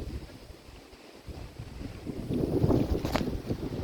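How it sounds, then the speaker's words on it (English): Gusty wind on a blustery day rushes and buffets the microphone outdoors beside garden fruit trees, rising in strength toward the end, with no speech. "It's a bit of a windy day today, as you can see."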